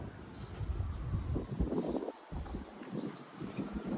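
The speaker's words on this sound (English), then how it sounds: "on this windy, blustery spring day" Wind blows hard outdoors on a blustery spring day, buffeting the microphone with a constant low rumbling roar and uneven gusts.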